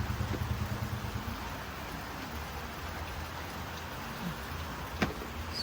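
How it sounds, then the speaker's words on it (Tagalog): Heavy, unrelenting rain falls during a typhoon, a soft, steady hiss with a low rumble beneath it and a single brief knock near the end. "Walang tigil ang ulan."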